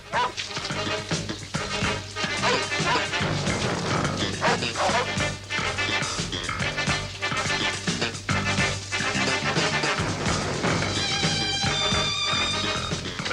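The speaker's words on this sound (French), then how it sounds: "Des chiens." Dogs bark and yip repeatedly over a dense, busy backdrop of music or commotion, fairly loud and continuous.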